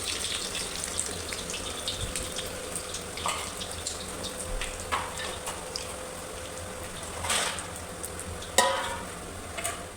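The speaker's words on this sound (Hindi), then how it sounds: "और यहाँ मैं करने लगी थी फ्राई रोल" Frozen homemade rolls fry in a pan for an iftar meal, giving a steady, close sizzle with soft crackling and a few sharper pops and clinks over about ten seconds, no voices.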